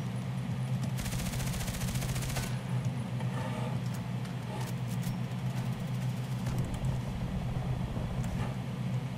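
Rapid automatic gunfire from the video game Contract Wars on the Bay 5 map, with a P90 in use, fires in dense sustained bursts over a steady low engine-like drone, loud and continuous through the clip.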